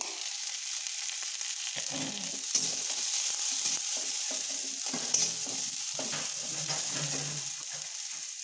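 Green peas frying in a pan as they are stirred, a continuous hissing sizzle with intermittent scraping strokes and a couple of sharper clinks, fairly close and steady.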